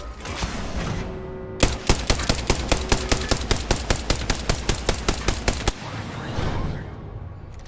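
Rapid automatic gunfire in Apex Legends: a steady, evenly spaced burst of about twenty loud shots lasting four seconds, set against a dense continuous game soundscape before and after.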